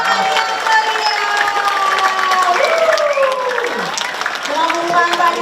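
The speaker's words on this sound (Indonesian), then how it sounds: "Tepuk tangan yang meriah." At a Lenong Bangsawan stage performance, the audience claps and cheers loudly, with shouting voices and sliding calls rising over the steady applause.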